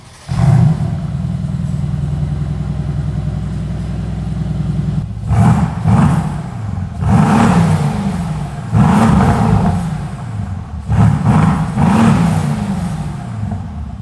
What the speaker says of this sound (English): see what a C63S sounds like with no exhaust system